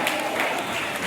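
A congregation at a grand Christmas fellowship gathering in Chidiga claps together, a brief dense burst of steady applause filling the room.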